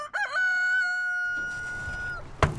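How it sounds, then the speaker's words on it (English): A farm rooster crows once, a long clear cock-a-doodle-doo up close, followed by a short sharp knock and quiet background. "We have chickens that produce all of our own eggs."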